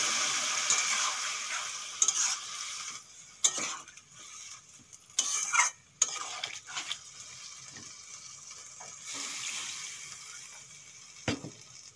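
Pan of frying vegetables for a prawn and Malabar spinach ghonto, with water added: a hissing sizzle with bursts of spoon scraping and clatter, close by and without speech.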